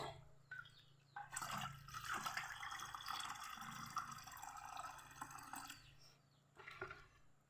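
Water pours steadily into a bucket as a faint splashing rush lasting several seconds, with quiet gaps before and after the flow.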